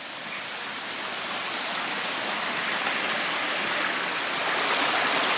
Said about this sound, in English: A little small waterfall, but you know what? It's nice.